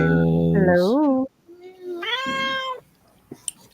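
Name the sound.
cats meowing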